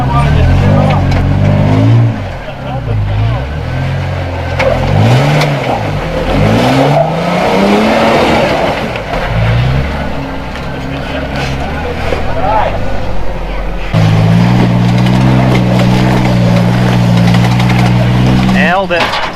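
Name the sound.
Toyota off-road vehicle engine revving on a trail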